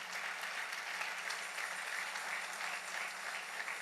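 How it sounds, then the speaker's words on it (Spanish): A church congregation applauds during a worship service, dense continuous clapping that fills the space evenly and steadily throughout, heard alone with no talking over it. "Dale ese aplauso al Rey bendito."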